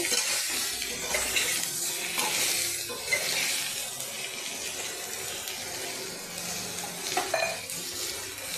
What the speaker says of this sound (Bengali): একটুখানি জল দিয়ে ঢাকা দিয়ে দিব দু মিনিটের জন্য